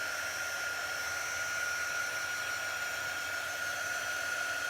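A hair dryer blows steadily to dry shimmer on a Chalk Couture craft project, giving a constant, fairly loud whirring hiss that runs unbroken from start to finish with no talking.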